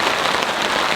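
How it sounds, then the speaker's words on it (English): Heavy rain pours steadily at a campsite in a storm, a dense, close hiss of drops hitting surfaces with no pauses and no voices. "wait out the rain"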